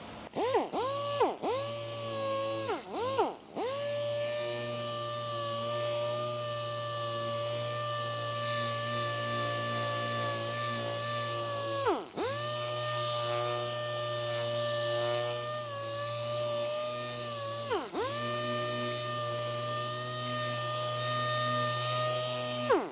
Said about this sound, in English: We got 2000 on here with a soft interface pad, and we're gently just going to go over the panels